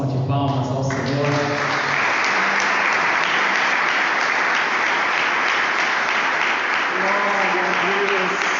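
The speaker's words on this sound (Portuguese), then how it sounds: "Vamos dar uma gloriosa salva de palmas ao Senhor." Loud, sustained applause from a church congregation, a thick continuous roar of clapping that rises after a voice speaks at the start, with speech returning faintly near the end.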